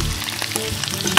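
Shallots sizzling in browned butter in a pan while stuffed capon is cooked, a steady close frying hiss with crackles throughout, no talk.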